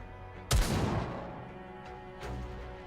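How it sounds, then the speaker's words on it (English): Gunfire in the NIKKE video game as Red Hood shoots Dorothy: a single sharp, loud blast with a booming tail, followed by a lighter impact a moment later, no voices. "Red Hood opens fire and hits Dorothy."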